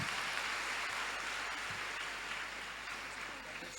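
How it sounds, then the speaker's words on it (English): Youth summit audience clapping for themselves, a fairly faint, distant wash of applause with a low steady hum underneath that tapers slightly toward the end. "Give yourself a round of applause."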